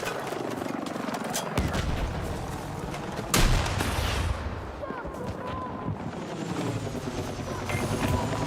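Gunfire aimed at an enemy helicopter in Battlefield 6 rattles through a dense wash of battle noise, with a heavy blast partway through and a low rotor drone underneath, steady and loud throughout.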